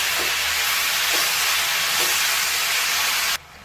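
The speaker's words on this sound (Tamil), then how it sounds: "இதை ஆட் பண்ணி நல்லா வதக்கலாம். நல்லா ஒன்று சேர்ந்து வதங்கட்டும்." Onion chutney ingredients sauté in a hot pan with a steady, dense sizzling hiss that stays loud and close throughout, broken by a few faint stirring scrapes, before cutting off abruptly near the end.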